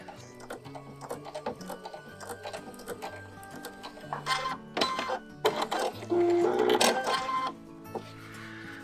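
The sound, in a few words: sewing machine sewing a zigzag stitch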